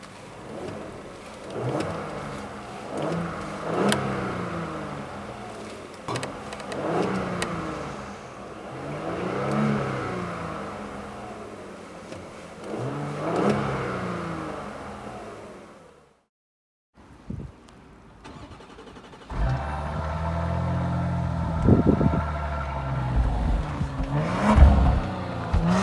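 A 2018 Porsche Cayenne S's 2.9-liter, 440-horsepower twin-turbo V6 revs and accelerates through repeated gear changes with rising and falling pitch, then a brief quiet before a deep, loud rumbling surge.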